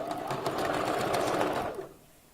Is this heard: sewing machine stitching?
yes